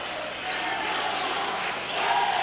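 A basketball tournament crowd cheers in a gym, a loud steady roar of many voices that swells near the end, with no clear single speaker.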